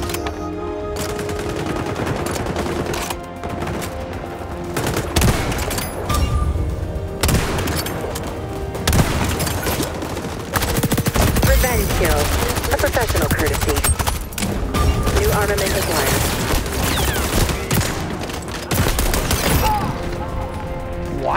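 Rapid gunfire in the first-person shooter XDefiant, including shotgun blasts, with dense, continuous bursts of shots and impacts throughout and a player's voice occasionally talking over the action.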